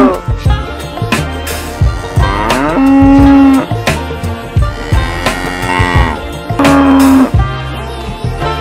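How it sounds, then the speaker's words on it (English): Cow mooing, several long drawn-out lowing calls with a few shorter grunts between them, loud and close, with no voices. "Cow."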